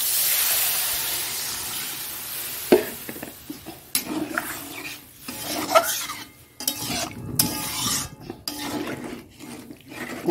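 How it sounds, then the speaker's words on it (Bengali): Water poured into a pan of katla fish curry brings a loud, steady hiss and sizzle, broken by scrapes and knocks of a spoon stirring in the pan. "এবার এর মধ্যে একটু জল দিয়ে দেবো।"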